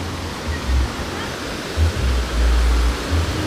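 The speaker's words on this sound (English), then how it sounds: "Yes, I can find the waterfall over there." A waterfall at Jumog falls in Tawangmangu, Central Java, gives a steady broadband rush of falling water that stays at an even, moderately loud level, with some low rumbling bursts underneath.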